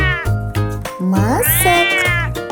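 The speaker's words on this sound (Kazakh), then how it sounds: "Бұл мысық." A domestic cat gives a couple of loud, close, drawn-out meows with rising and falling pitch, after a brief spoken voice.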